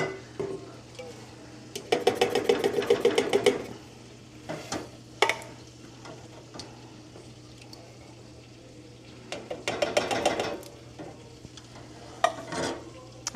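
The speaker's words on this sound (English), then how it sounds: "So we're just going to add our crushed tomatoes" Crushed tomatoes go into a pot and are stirred: two bursts of rapid, clattering spoon scraping against metal, with a few scattered knocks between them over a low steady hum.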